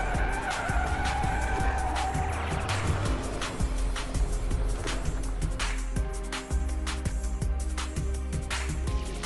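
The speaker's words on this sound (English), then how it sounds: "But due to this abrupt steering maneuver, the vehicle starts to skid." A car's tires skid and squeal after an abrupt steering maneuver in a vehicle stability test, loud and continuous over rumbling engine and road noise, with a sharp squeal early on.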